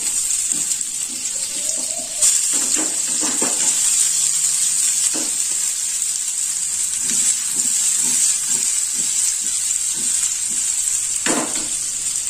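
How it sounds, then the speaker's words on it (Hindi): Mini potatoes frying in hot oil, a steady close sizzle throughout with scattered stirring clinks and scrapes. "ऑयल हमारा गर्म हो गया है तब हम इसमें डाल देते हैं ये मिनी पटेटो गोल्डन ब्राउन होने तक फ्राई कर लेते हैं"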